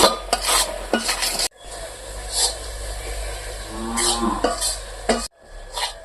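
Sweet coconut and raisin filling for Bengali pitha is stirred in a pan, a spoon scraping and clinking steadily against the metal in close, rhythmic strokes with a soft sizzle underneath.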